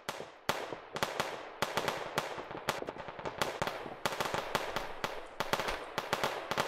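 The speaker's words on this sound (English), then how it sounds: "they don't stop shooting at the corpse before I send a message" Teammates keep firing at a downed enemy's corpse in BattleBit Remastered, a steady rattle of sharp, close gunshots in fast irregular bursts filling the whole stretch, with no talk over it.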